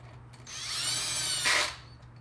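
Power tool running briefly at low torque on the locking front hubs of a Toyota 4Runner, a faint whirring spin of about a second and a half that rises slightly before stopping.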